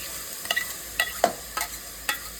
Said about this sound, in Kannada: ಮೆಣಸು, ಆಮೇಲೆ ಈರುಳ್ಳಿ, ಕೊತ್ತಂಬರಿ ಇದನ್ನು ಹಾಕಿ ಹಸಿ ವಾಸನೆ ಹೋಗೋವರೆಗೂ ಫ್ರೈ ಮಾಡ್ಕೊಳ್ಳಿ